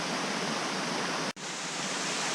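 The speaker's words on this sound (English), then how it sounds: "That's a pretty waterfall though." Waterfall pouring down a gorge on the North Fork Sauk, a dense, steady broadband roar filling the whole clip, loud and close, with one brief dropout near the middle and no voices.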